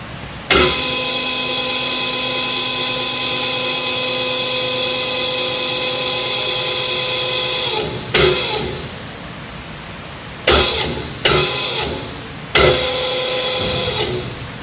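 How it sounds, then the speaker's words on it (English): A Pandjiris 4500 lb welding positioner table with a pipe welding chuck, tilted at 45 degrees, rotates at variable speed in both directions. It gives a loud, steady tonal motor whine for about seven seconds, then several shorter bursts that start and stop. "we're going to show you the variable speed rotation of the table"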